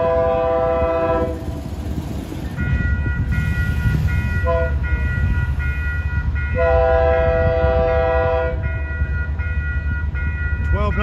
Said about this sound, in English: those cab car horns sound pretty good too